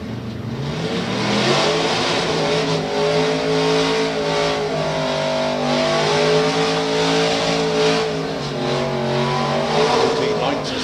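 A drag racing car makes its run at Santa Pod Raceway: a loud, sustained engine roar whose pitch rises and shifts throughout, with a commentator talking over it.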